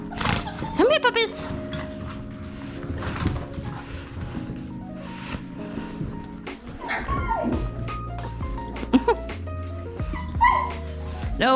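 Several Goldendoodle puppies bark, yip and whimper close by in a busy overlapping chorus, with sharp yelps and steady whining throughout while a person talks over them.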